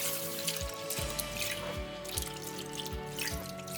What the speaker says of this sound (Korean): 물에 깨끗이 3번 정도 씻어